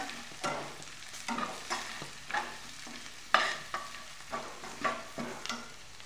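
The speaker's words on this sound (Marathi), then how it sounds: "याच्यामध्ये चटणी आणि हळद टाकून घेतली मी. 2 मिनिटं परत परतून घ्यायचं" Aloo methi bhaji of potato, fenugreek leaves, chutney and turmeric being stir-fried in a pan, with repeated scraping strokes of a spatula at a steady rhythm over a soft sizzle, close and fairly quiet, no talking.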